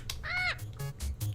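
A bird screeching as a sound effect in a visual novel game, a series of sharp, harsh cawing cries, one drawn-out squawk followed by several shorter bursts, loud and close.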